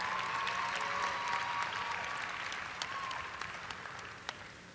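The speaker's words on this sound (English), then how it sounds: "let's have another round of applause for our student athletes from Rowlett High School" An audience applauds student athletes from Rowlett High School at a school signing day event, a steady wash of clapping that fades gradually, leaving a few scattered distinct claps near the end.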